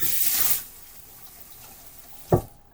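Tap water runs briefly while hands are rinsed during fruit salad preparation, a short close splash that stops within a second, followed by quiet and a single sharp knock near the end.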